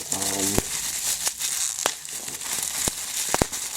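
Crinkling and tearing of plastic packaging and Scotch tape while unboxing a 1-1/2-inch Warner ProGrip full flex putty knife, close and continuous, with several sharp snaps and rips.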